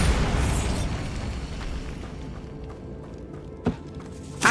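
A Bombarda blasting spell goes off in a Harry Potter video game, a loud, broad booming burst that fades over a couple of seconds, followed by a couple of sharp later pops.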